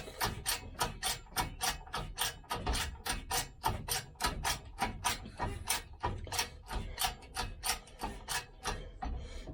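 Steady, repeated clicking of a ratchet tightening the A-frame pivot on a Range Rover Classic, about twenty-five sharp evenly spaced strokes over ten seconds, close up and fairly quiet, with no talking.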